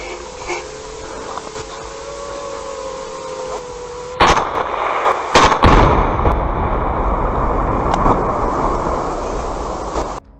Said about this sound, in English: A Russian drone monitored a Ukrainian military ammunition site on the front line, which later experienced a large explosion.